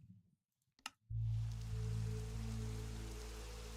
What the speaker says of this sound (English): oh, look at that. It's raining.